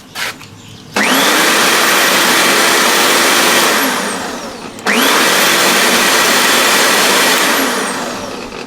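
An electric McCallister scarifier with newly replaced tines whirs up to speed twice, each run a loud steady motor drone with a rising pitch at startup that slowly winds down after switch-off.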